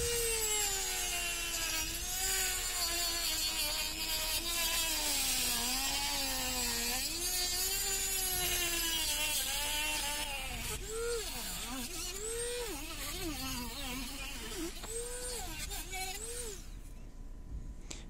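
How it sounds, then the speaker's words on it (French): A Dremel rotary tool grinds into a polymer concrete drain channel, whining steadily with a pitch that wavers and dips as it bites, continuous and close for the whole stretch before fading at the end. "je vais y aller à la Dremel. Je vais déjà essayer d'enlever un maximum là"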